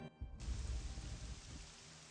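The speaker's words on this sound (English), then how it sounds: "Fathis curses the rain." Steady rainfall in the Morrowind video game, a dense broadband hiss of downpour that fades in after a short moment and holds evenly, with a low rumbling wash underneath and no voices.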